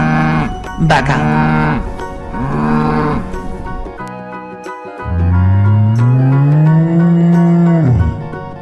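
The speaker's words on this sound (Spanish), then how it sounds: "Vaca, vaca" Several loud, drawn-out cow moos, the last one long and rising before fading, with no talk over them.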